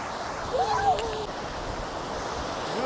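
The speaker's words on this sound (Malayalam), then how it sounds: "ആ ഒരു തിരമാലയുടെ സൗണ്ടൊക്കെ കേൾക്കാൻ പറ്റുന്നുണ്ട്" Surf washes onto the white-sand beach at the Al Khafji Corniche, a steady broad wash of waves with light wind noise and faint voices murmuring in the background.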